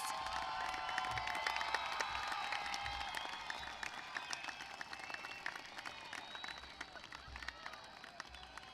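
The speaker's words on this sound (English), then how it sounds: "Give them a round of applause." Commencement audience applause from graduates facing their families, a faint, distant, sustained patter of many hands clapping with scattered cheers.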